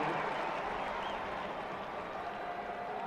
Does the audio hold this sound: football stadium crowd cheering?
yes